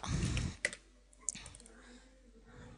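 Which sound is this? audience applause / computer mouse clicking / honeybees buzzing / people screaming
computer mouse clicking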